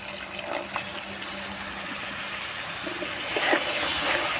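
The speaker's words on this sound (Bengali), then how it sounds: "আমি আর একটু জল দিয়ে দিচ্ছি।" Water poured into shrimp curry simmering in a pan, a steady liquid rush and trickle, close and fairly loud, swelling toward the end.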